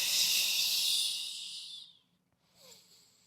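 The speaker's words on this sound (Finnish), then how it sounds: "hengitetään sisään, pitkä hengitys nenän kautta ja ulos suun kautta" A long, airy exhale hisses loudly through the mouth during a Pilates exercise, fading out before a brief quieter breath follows, close to the microphone.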